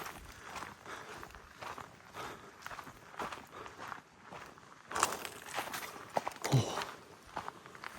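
Footsteps crunch along an outdoor hill trail at a steady walking pace, heading downhill, with light rustling and no talking.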